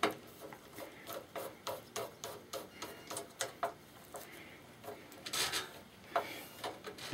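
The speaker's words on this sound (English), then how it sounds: "Now, each of these screws has a washer just to be able to, so it doesn't fall through the case holes. I'm just hand tightening it right now." Screws fitted with washers being turned by hand into a PC case during a gaming PC build, giving a steady rhythmic series of close, dry rasping scrapes, with a brief louder rustle near the end.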